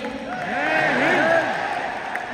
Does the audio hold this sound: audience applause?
yes